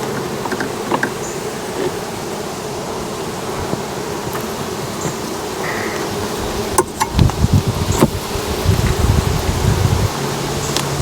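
A honeybee swarm buzzes steadily during a hive inspection, a dense continuous hum up close, with scattered clicks and knocks of hive equipment toward the end.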